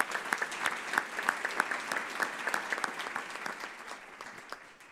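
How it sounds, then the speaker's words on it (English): An audience at a public health forum applauds sponsors with a steady round of dense clapping that holds for about five seconds, then slowly thins and fades toward the end. "Let's give them a round of applause."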